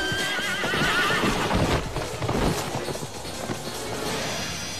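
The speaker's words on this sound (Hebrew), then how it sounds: "הסוס מתחיל להתפרע, רומס את המעלף שלו, ומעיף את ראש הממשלה לקרקע" An agitated horse whinnies loudly and stamps its hooves in a burst of close, heavy clopping, then the noise settles into a rougher rumble.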